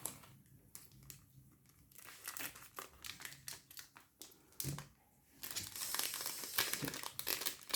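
A Duel Masters booster pack is cut open with scissors, making crinkly foil-wrapper rustles and snips in short bursts close to the listener, with no speech.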